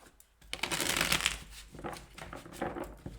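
Tarot deck shuffled by hand for a love reading, a steady close papery riffling and rustling that runs without a break, with no talking.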